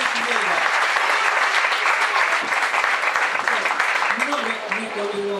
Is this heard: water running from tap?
no